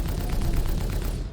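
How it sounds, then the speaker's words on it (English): Twin Panther laser cannons on an Anvil Hurricane fighter in Star Citizen fire a loud, rapid burst, with dense overlapping shots that hold steady before cutting off. "these laser cannons are pretty sick. Twin Panthers."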